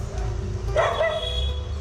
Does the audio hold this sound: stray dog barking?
yes